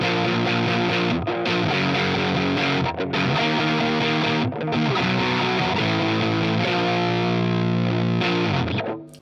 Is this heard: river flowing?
no